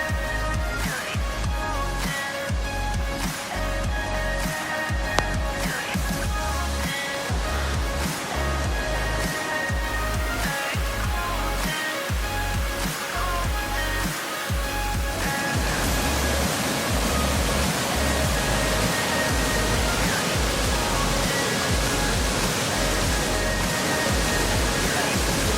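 Continuous loud rushing roar of Dangari waterfall, surrounded by mountains, a broad steady wash of falling water heard up close for the whole stretch.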